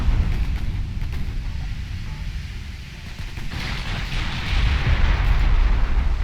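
Torpedo explosions sinking a destroyer in the naval warfare game Ultimate Admiral Dreadnoughts, heard as a loud, continuous rumbling roar of blasts and crashing water that swells toward the end.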